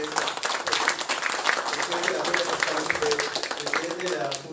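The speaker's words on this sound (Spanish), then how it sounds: "Pido nuevamente un fuerte aplauso para el doctor Fanelón Coyaponce" Audience applause at a Tacna bar association academic event on criminal law, a steady wash of many hands clapping at moderate loudness for several seconds, with an announcer's voice faintly underneath.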